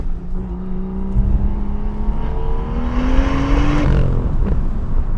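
BMW M2, the original model, with its exhaust in Sport mode revving hard, engine pitch climbing steadily and then dropping off, loud and close with no talk.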